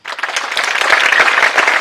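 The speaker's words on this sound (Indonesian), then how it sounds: "Boleh tepuk tangan." An audience at a pesantren opening ceremony in Semarang breaks into brisk, close applause, many hands clapping at once in a busy, fairly loud burst.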